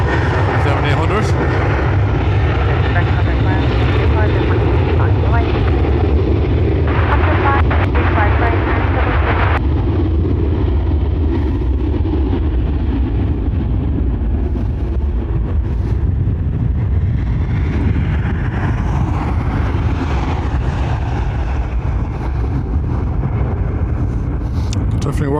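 A Ryanair airliner bound for Warsaw rolls for takeoff on runway 10R at Dublin Airport, its engines a loud, continuous roar that holds throughout, with people talking over it.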